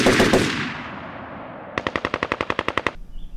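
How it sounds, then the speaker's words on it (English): A Maxim machine gun fires in a wargame battle scene: a loud blast decays, then a rapid, evenly spaced burst of about fifteen sharp shots rings out before stopping abruptly. "fire their 1-man Maxim machine gun team at the barn"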